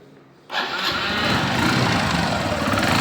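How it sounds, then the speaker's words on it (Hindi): A 2015 Hero Passion X Pro 110cc motorcycle engine starts abruptly after a brief quiet moment, then settles into a steady, even idle, close and fairly loud. "इंजन का आवाज़ बहुत ही स्मूथ है।"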